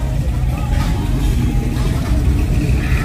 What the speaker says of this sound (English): Monte sounds healthy